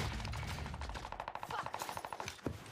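Rapid bursts of automatic gunfire from a Call of Duty match ring out in quick repeated shots, dense and continuous with a sharper single crack near the end.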